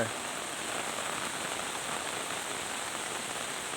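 Rain falls at night on a rural house, a steady, even hiss of drops that stays constant throughout, fairly close and with no clear voices.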